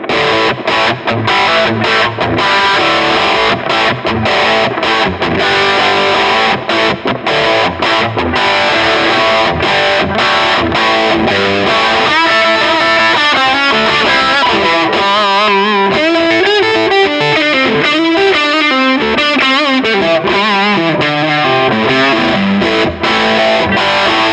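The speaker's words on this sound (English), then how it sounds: "So this pedal actually does low gain really well." Electric guitar through a low-gain Marshall-style pedal, mildly overdriven, strummed chords and busy riffs ringing continuously and loud with a slightly crunchy edge.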